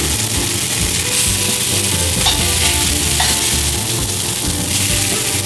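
Seabass frying in a very hot pan gives a loud, steady sizzle that holds unbroken from start to finish, with faint crackles and clinks now and then and no voices.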